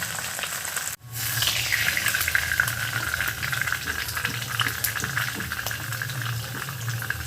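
Small puti fish fry in hot oil, with a continuous loud sizzle and bubbling that jumps up sharply after a brief dip at the start and then stays steady and close.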